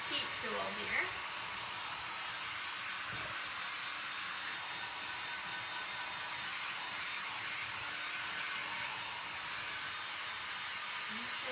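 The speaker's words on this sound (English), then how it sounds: "I'm going to try and give it a little head start with my heat tool here." A heat tool blows steadily while drying gold paint on a thrifted salt and pepper set, giving a continuous airy hiss and whir close to the listener, with a faint bump or two near the start.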